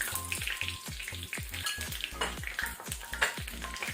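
Curry leaves sizzle in hot tempering oil over a low flame for a Mangalore-style cucumber sambar, with a soft, continuous crackle and a regular low pulsing underneath, no voices.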